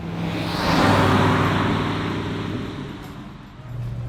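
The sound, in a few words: 1970 Ford Mustang Boss 302 driving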